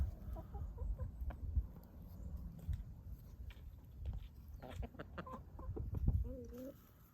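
Tan and dark-colored chickens cluck softly nearby in a farm setting, with a few scattered calls over low rustling and background noise, and a voice speaks briefly in between.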